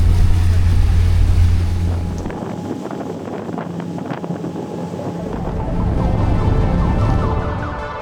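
A motorboat pulls out of a port in Phuket, Thailand, its engine a loud steady low drone that thins briefly midway and swells again, with gusty wind buffeting the microphone throughout.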